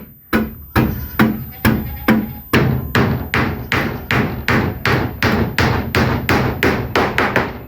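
Hammer blows strike wooden boards on a Thai house under construction, around twenty sharp, evenly paced thuds that speed up toward the end, close and loud with no talk.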